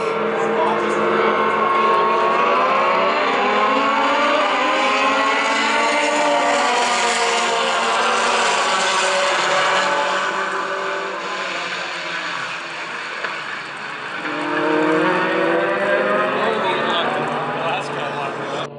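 Formula race cars at the Buttonwillow circuit, heard from the stands during a Saturday race, with engines roaring loudly and steadily as a pack passes, a brief dip mid-clip before the roar swells again; a voice talks over it.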